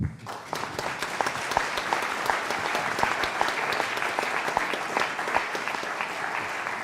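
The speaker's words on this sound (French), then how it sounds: "on a vraiment le droit de les applaudir" Sustained applause from a conference audience for panel speakers at a think tank forum on Europe, dense and loud clapping that fills the whole stretch with crisp individual hand claps close by.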